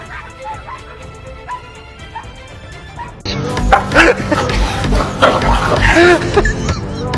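A dog yelps and yips in sharp repeated cries after being scratched by a cat, loud and close, following a quieter stretch of low sounds.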